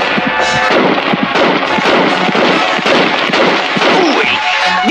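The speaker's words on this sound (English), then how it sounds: "Ooh, this gun won't hit a thing." Rapid cartoon gunfire, a dense loud burst of overlapping bangs and cracks sustained throughout, close and unbroken, with no talk over it.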